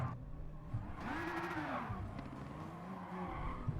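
Race car in the GT Sport video game braking hard, a steady engine roar with a rising and falling tire squeal through the middle, continuous and close.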